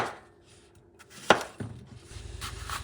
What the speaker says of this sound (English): Peel them and cut them into chunks